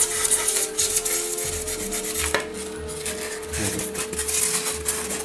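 Repeated rasping strokes of a blade scraping and cutting through material, close up, with an uneven rhythm and a steady background hum.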